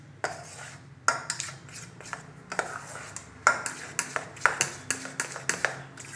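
Spoon clinking and scraping in a pan as bread crumbs are stirred into a caramel pudding mixture of custard and milk powder, a series of sharp metallic taps, close and fairly loud.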